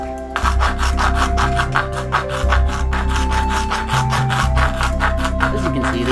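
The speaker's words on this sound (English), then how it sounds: "I'm just going to file down this edge here with my rasp." A rasp files down the edge of a laminated PVC compound bow in quick, regular back-and-forth strokes, close and fairly loud, a rough scraping rhythm over a low background hum.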